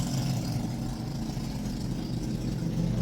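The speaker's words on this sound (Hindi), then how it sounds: "मुझे समझ नहीं आती गाड़ियों में से सलाइंसर क्यों निकाल लेते हैं। अजीब आवाज़ें इन लोगों की।" Loud, unmuffled exhaust of a car engine running with its silencer removed, a steady deep rumble that holds through the whole stretch without any talk.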